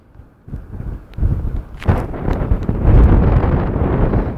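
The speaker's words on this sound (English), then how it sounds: "The wind's getting very windy" Loud wind buffets the microphone in rough, rumbling gusts that build and stay strong, with no talking, outdoors during a football match.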